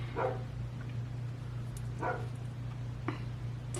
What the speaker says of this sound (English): barking at the mailman at this point.